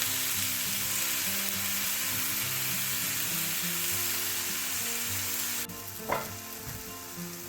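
A steak fries in a hot pan with a loud, steady sizzle that suddenly thins out near the end, followed by a brief clatter and softer crackling.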